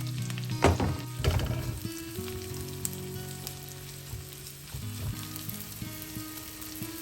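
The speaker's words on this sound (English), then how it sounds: "Saute the shallots until they're translucent." Shallots sauté in olive oil and butter in a skillet, a steady close sizzle with a couple of knocks from stirring early on, then an even frying hiss that continues without talk.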